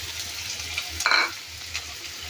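Chopped onion is tipped into a pan with cumin and mustard seeds, giving a low steady frying hiss with a brief sharper burst of sizzle and stirring midway.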